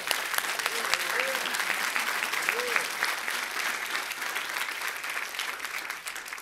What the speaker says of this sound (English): can we have a round of applause for our youth council?